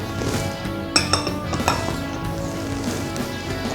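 Spices including turmeric and chilli powder being mixed into raw chicken for chicken 65 in a metal bowl at home: a steady clatter of a spoon scraping and clinking against the bowl, close and fairly loud, with a few sharper knocks.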